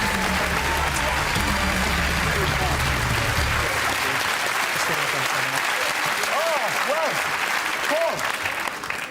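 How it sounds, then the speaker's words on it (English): A television studio audience applauds loudly and continuously, dense clapping that stays steady throughout while a presenter's voice and other voices carry over the top. "could you keep your applause going, ladies and gentlemen, for Mr. Matthew Jukes."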